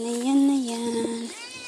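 A cat gives a long, drawn-out meow up close, followed by a shorter second meow.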